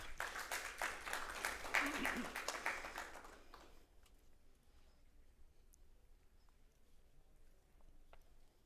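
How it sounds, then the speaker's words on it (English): Audience applause at a dairy business seminar at VIV Asia, a dense burst of clapping for nearly four seconds that then fades out, leaving a quiet room. "Please, a round of applause for Dr."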